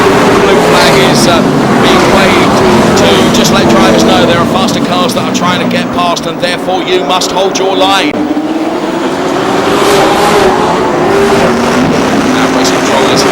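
Stock cars race at speed on a speedway, their engines roaring loudly and continuously as they pass, with rising and falling engine pitch under a commentator's steady talk.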